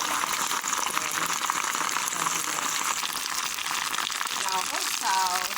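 A neem oil mixture frying in a pan, a steady dense crackling sizzle that runs continuously throughout at an even, fairly loud level.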